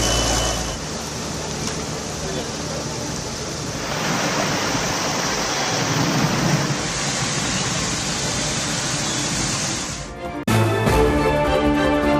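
Heavy rain pours down on flooded Delhi streets, a dense, steady roar that holds for about ten seconds, then shifts abruptly to a different, harsher wash of noise.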